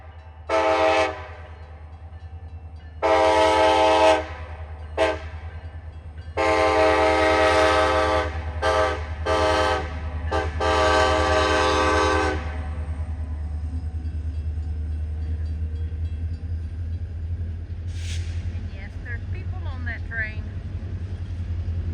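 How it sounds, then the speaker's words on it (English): A long train passing in Denali, Alaska, with loud horn blasts in several bursts, then a sustained rumble of rail cars rolling by at a distance, with people talking now and then. "That's a long train. It goes all the way to Fairbanks."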